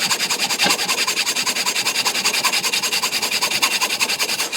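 A piece of wood hand-cut with a saw to make a square cut, the blade rasping in a fast, steady back-and-forth rhythm of even strokes, close and fairly loud with no talk.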